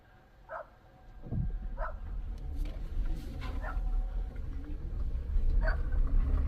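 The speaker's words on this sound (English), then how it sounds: "somebody's dog not liking this unknown van" A dog barking at a passing van in Cumberland, Maryland, a few spaced yips and barks at a moderate distance over a steady rumble of the vehicle's engine.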